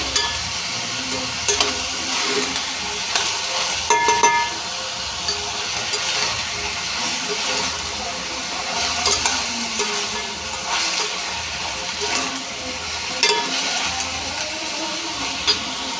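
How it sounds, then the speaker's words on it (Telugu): Onions fry in hot oil for a curry with dried fish and okra, a continuous close sizzle broken by frequent spatula stirs and scrapes against the pan. "ఇప్పుడు ఉల్లిపాయలు ఫ్రై చేసేసుకోవాలండి"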